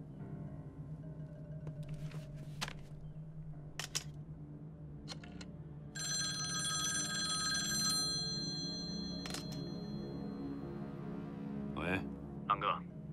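A telephone rings during a call in a Chinese spy TV drama, short bright electronic ring bursts over a steady room hum, with an interval of sustained high ringing tones.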